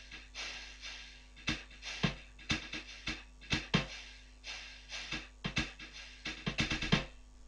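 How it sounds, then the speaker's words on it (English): A snare drum played with brushes gives a quiet, continuous swishing texture, broken by soft, scattered taps in a loose rhythm with no other sounds. "a snare drum, which sounds like this with brushes."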